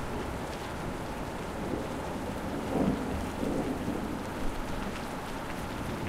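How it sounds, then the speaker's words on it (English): Steady heavy rain in a video game pours continuously, a dense hiss with a faint low rumble, loud and even throughout with no voices. "Very loud rain."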